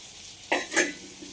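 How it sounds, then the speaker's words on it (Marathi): Chicken liver frying over low heat in a steel kadai, a soft steady sizzle with two brief louder bursts of stirring and scraping partway through, close and alone without talk. "आणि इकडे आपली कलेजी फ्राय चालू आहे"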